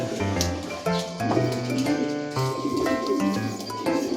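Racing pigeons at the home loft coo in low, repeated throaty phrases close by, overlapping one another over a faint outdoor background.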